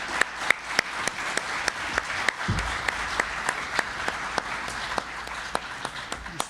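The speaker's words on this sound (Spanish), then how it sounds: "Un aplauso, por favor, para nuestra ponente." An audience at a talk on sustainable cities applauds a speaker, with scattered distinct claps sounding in a steady run over a soft, continuous patter.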